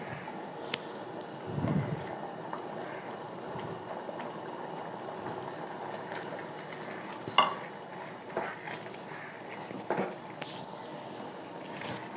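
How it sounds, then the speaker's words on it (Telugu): Dry pasta tumbles into gongura chicken curry in a pan with garlic, followed by quiet stirring, soft scrapes and a few brief metallic clinks. The sounds are close but faint, with no voices. "ఇప్పుడు పాస్తా వేసేస్తాను"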